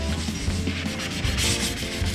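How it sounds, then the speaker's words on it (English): Sandpaper scrubs the stained top layer off a wooden nightstand in steady, close back-and-forth strokes, a continuous gritty rasp with no talking. "We're just gonna kind of sand some of this away."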